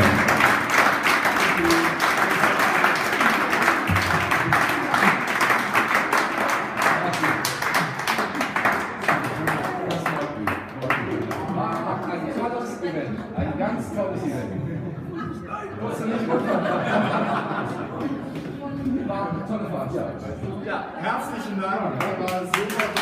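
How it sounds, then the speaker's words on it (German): Applause at a living room concert: an audience claps warmly for about ten seconds, then the clapping thins into chatter and a few laughs while people talk. "Auch an euch für diesen Applaus."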